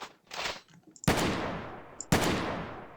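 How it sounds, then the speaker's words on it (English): Two sharp, loud gunshots about a second apart in a Roblox open-world building and PvP shooter game, each with a quick attack and a long fading tail, after some quieter game sounds. "So if I shoot this guy from further away"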